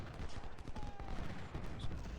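Cannon fire from an American Civil War battle at Chantilly in the strategy game Ultimate General: Civil War, heard as a dense, continuous rumble of booming artillery and gunfire with no clear gaps, fairly faint overall.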